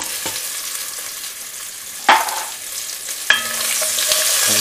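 Carrots sautéing in rendered bacon fat for a beef and bacon pie give a steady, close sizzle, broken by two sharp stir or scrape bursts midway before the frying hiss swells again.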